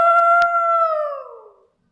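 A human voice imitates a wolf howling at the moon: a single sustained, slightly falling howl lasting about a second and a half, clear and close, then trailing off into silence.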